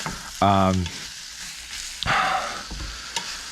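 Spicy Korean soft tofu stew with pork fat and a little sesame oil cooks in a pot, a close sizzle and bubbling with a brief tonal squeak early on and a couple of sharp clinks.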